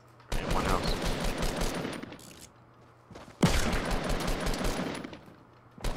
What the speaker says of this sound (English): Wait, I heard a hunter rifle.